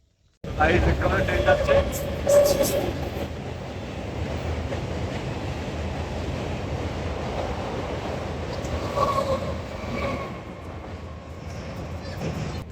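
A train rumbles across a bridge nearby, a continuous rolling roar heard from close beside the track, with people talking over it.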